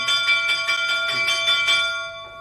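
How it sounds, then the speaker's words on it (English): A loud bell rings with a rapid, even series of about eight strikes over two seconds, its sustained tones hanging bright and steady before cutting off near the end. "loud bell"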